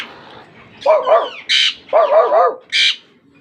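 A parrot imitates a dog, giving a few hoarse bark-like calls in two short bursts, each followed by a higher squawk, close and clear.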